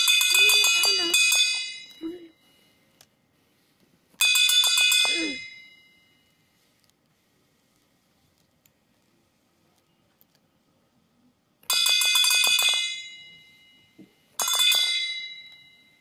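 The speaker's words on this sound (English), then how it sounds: "We will get a bell." A homemade electric bell, wired to a battery with a safety pin as the contact, rings loudly in four bursts of steady metallic ringing separated by silent gaps, heard alone.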